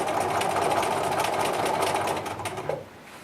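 A quilting machine stitches a grid-based lollipop design, travelling back along a previous line of stitching, with a steady, close, rapid mechanical whirr that fades and stops near the end.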